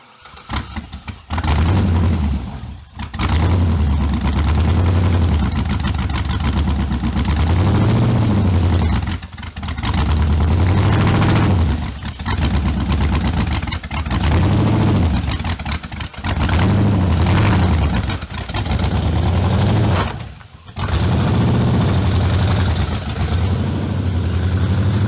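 A BMW E39 fitted with a swapped GM LS V8 runs loud and close, its rough idle broken by repeated revs that rise and fall every few seconds, with short dips between bursts.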